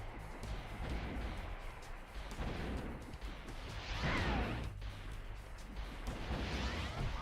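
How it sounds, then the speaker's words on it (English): Projectile shots and bursting pops from the Spyro: Year of the Dragon game as enemies are shot down in the air, with whooshing blasts over busy game noise, faint overall. "I should be able to shoot them out of the sky before they use their magic"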